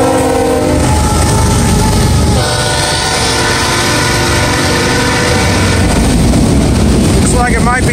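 A westbound NS 288 autorack freight train, led by two BNSF locomotives, rumbles past close by with a loud horn blast and a steady roar of rolling cars that fills the whole stretch.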